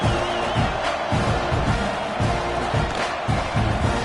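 A stadium crowd in the college football video game NCAA 26 roars and murmurs in a steady wash, with rhythmic chant-like swells recurring throughout, loud and unbroken by speech.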